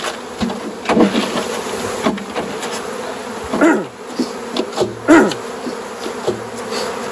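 Honeybees climbing into a hive, a close, steady buzzing with several louder swells of individual bees passing near, plus occasional knocks against the wooden hive.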